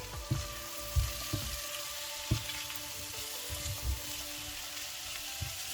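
Ackee and saltfish frying in a pan while being stirred, a soft steady sizzle under a few dull knocks and scrapes of the spoon against the pan, close and fairly quiet.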